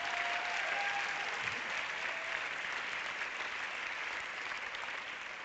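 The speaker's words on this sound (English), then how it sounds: "Big round of applause." Steady, faint applause fills a hall at a European film award ceremony. The clapping continues evenly throughout with no voices over it.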